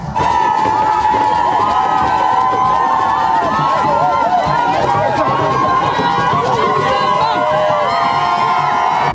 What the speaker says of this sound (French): une foule venue nombreuse pour voir, même à distance, le 4e pape à visiter notre pays